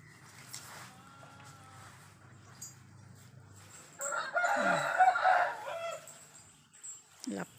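A rooster crows once, loud and close, in the middle of a quiet morning at home, with a soft voice heard faintly before it.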